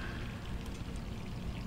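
A kitchen tap left running in Resident Evil 3 Remake, a steady close splashing pour of water with no pause.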